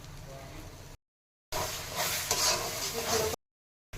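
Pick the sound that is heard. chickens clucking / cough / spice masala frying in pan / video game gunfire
spice masala frying in pan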